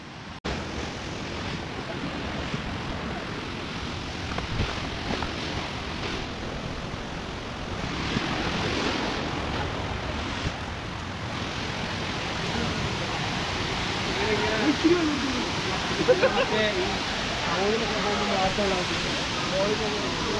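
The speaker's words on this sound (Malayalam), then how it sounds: "നമ്മൾ ഫൈനലി ആ വെള്ളച്ചാട്ടത്തിൻ്റെ അടുത്ത് എത്തിയിരിക്കുകയാണ്" The Aanachadikuth waterfall in Idukki roars in a steady, broad rush of falling water, loud and constant for the whole stretch.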